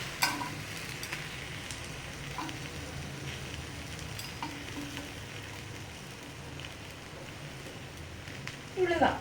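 An egg dosa is frying on a hot pan after being flipped: a steady broadband sizzle runs throughout at moderate level, with a louder clatter near the end.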